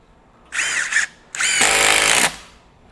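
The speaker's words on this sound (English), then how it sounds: "we're going to run some of these 3-inch deck screws with the impact driver" Milwaukee M18 FUEL Gen 4 impact driver running 3-inch deck screws into wood: two close bursts of rapid hammering whir, a short one followed by a longer sustained drive, with no talk.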